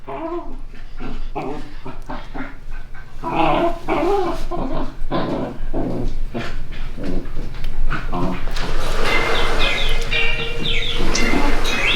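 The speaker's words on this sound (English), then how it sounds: "We got the dogs playing in the background." Dogs playing near a creek, growling, whimpering and yelping in a loud, busy run of rapid bursts close by, with people talking over them.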